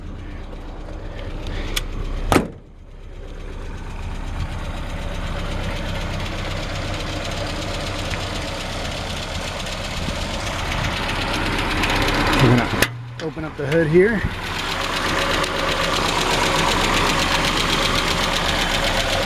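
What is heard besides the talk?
1959 Triumph TR10 estate wagon engine running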